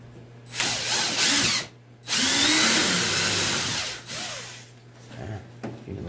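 A power drill whirring in bursts close by, drilling a hole for a wiper and washer kit on a Polaris RZR 900S UTV, in two long runs with short pauses and a quieter spin at the end.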